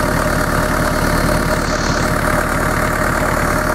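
A car engine fitted with a Turbonetics turbo and newly installed waterlines idles steadily and loudly up close, an even low rumble with a faint regular knock and no pauses.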